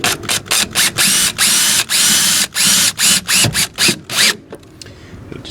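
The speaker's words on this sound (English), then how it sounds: "Just got a regular Makita drill." A Makita cordless drill drives a self-tapping screw into a Honda Ridgeline door, running in a rapid series of short, loud bursts with brief pauses before winding down.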